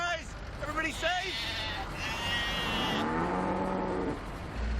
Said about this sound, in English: I'm delivering a cow and 6 goats.